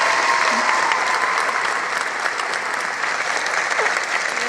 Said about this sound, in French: les gens ils vont se mettre à applaudir